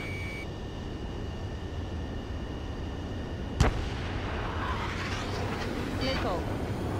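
A heat-seeking missile fires from an F-15E in the Ace Combat 7 flight game: a sharp, loud launch crack cuts through steady jet engine roar, followed by a rising whoosh as the missile streaks away.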